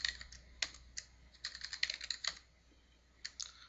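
Fingers tap out a command on a computer keyboard in quiet bursts of close clicking keystrokes, with short pauses between groups and no one talking.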